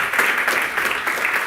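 Audience applause at a finance lecture event in Spain, a steady dense wash of clapping hands sustained throughout, fairly loud and close, with no one speaking over it.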